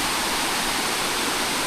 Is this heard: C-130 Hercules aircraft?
no